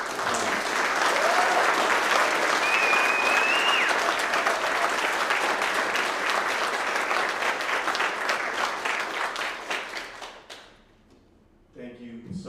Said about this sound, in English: can we please give him another warm applause.